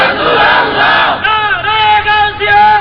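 A large crowd at a Sunni religious gathering in Bangladesh shouts the takbir together, a loud, close, massed chant of several rising voiced phrases in quick succession.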